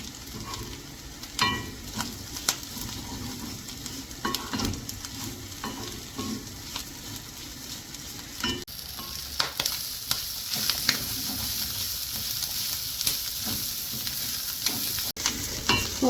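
Clams sizzle and crackle as they are stirred and fried in a pan in the Kerala style, with a steady close hiss and repeated scraping strokes of the spoon, and no one speaks.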